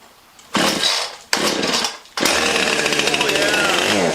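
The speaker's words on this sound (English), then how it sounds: "We're going to try to cold start all my saws today, right here on camera." Cold start of a chainsaw: two short pull-cord bursts of sputtering engine, then it fires and runs at a steady buzzing idle, loud and close, with no talking over it.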